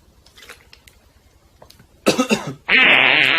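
A person coughs sharply at close range, a burst of two or three harsh hacks after quiet, followed by a loud sustained hissing rasp.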